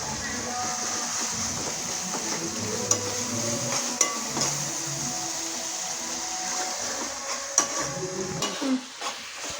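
Chicken curry with tomatoes, onions, green chilies and turmeric simmering and sizzling in a pan, a soft steady background with a few sharp utensil knocks, while someone talks.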